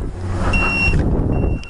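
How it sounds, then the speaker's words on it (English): A SPY 5000m alarm on a 2008 Honda Goldwing GL1800 motorcycle sounding off with loud, close, high electronic beeps in two short repeated bursts over a low background hum. "alarm's going off."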